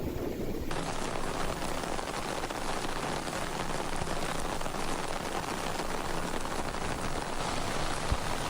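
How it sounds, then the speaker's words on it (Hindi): Heavy rain pours steadily across Pakistani cities including Islamabad, Rawalpindi and Lahore, a dense, continuous hiss of drops drumming on surfaces, loud and unbroken throughout with no voices. "इस्लामाबाद, रावलपिंडी और लाहौर समेत कई शहरों में बारिश"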